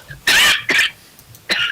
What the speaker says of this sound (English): I keep trying to mute before I die from coughing